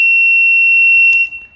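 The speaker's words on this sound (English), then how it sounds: "a piezo buzzer running off 3 volts" A small piezo buzzer powered from 3 volts on a DIY ATX bench power supply setup gives a loud, steady high-pitched tone that holds for over a second, then cuts off, leaving faint low rumble.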